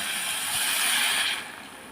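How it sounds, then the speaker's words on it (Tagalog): Water is poured into a pot of tofu and egg soup with saluyot, making a steady close splashing rush for over a second before it drops to a quieter trickle, with no voices. "Lagay natin siya ng tubig."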